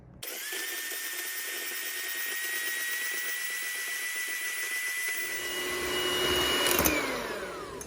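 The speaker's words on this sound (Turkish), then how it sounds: "Şeker ve yumurta kremamsı kıvam alıncayı da çırpalım." Electric hand mixer beating eggs and sugar into a creamy batter for an inexpensive homemade cake, a steady high motor whine that runs continuously and shifts pitch slightly near the end, with no talking.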